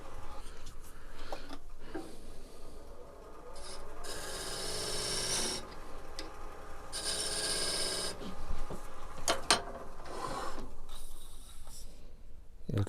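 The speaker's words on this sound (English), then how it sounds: "I'm using this corner of the parting tool to scrape that shoulder." A lathe parting tool's corner scrapes a wooden shoulder while turning a magician's ball and vase, giving a rough, rasping scratch in repeated bursts separated by short pauses, close and fairly loud, with no talking.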